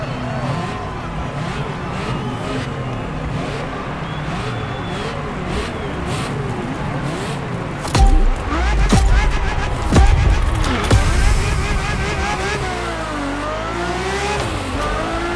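A Formula One–style race car with covered wheels driven in The Crew Motorfest, its engine whining and shifting pitch steadily, then revving and surging louder with thuds and acceleration roars partway through.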